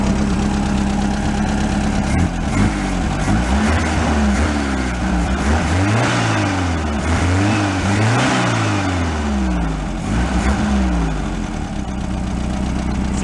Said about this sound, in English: The engine sounds nice.